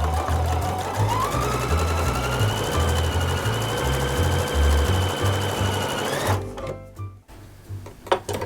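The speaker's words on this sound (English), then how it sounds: "we can go ahead and start sewing a 1/4 inch seam allowance" Sewing machine stitching a 1/4 inch seam on quilt block pieces, a steady rapid mechanical whir with rhythmic needle clatter running for several seconds, then stopping, followed by a few faint handling clicks.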